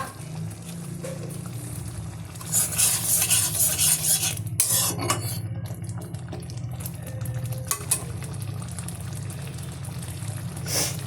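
Dal lentils boiling in a pot: a low steady bubbling rumble with intermittent stirring scrapes and bursts of hissing steam in the middle, close and moderately loud.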